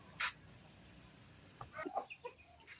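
Chickens on a farm clucking in short, quiet bursts, with one sharp squawk near the start and a few soft clucks toward the end, faint and close.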